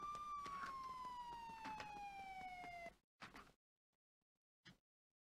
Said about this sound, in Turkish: İstediği kadar polis sireni çalsın